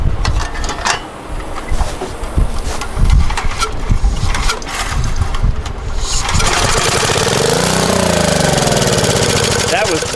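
An abandoned Generac generator with a newly replaced carburetor cranks and catches, its engine briefly rumbling and knocking at close range, then settling into a steady loud running tone.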